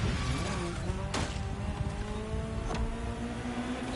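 A 40-year-old GTO street car driving in The Crew Motorfest, steady engine drone with gear-shift dips and a brief tire squeal, continuous and close.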